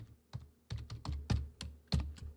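Quick, irregular clicks of a computer keyboard being typed on, close and moderately quiet, with short pauses between bursts of keystrokes and no talking.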